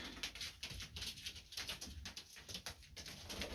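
Several male pigeons cooing close by, soft repeated low coos rising and falling over a steady background hiss of a loft.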